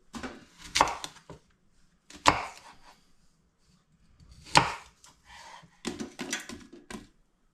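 A knife chopping apples on a board in a handful of sharp, irregular strikes with short gaps, close by and moderately loud, no talking.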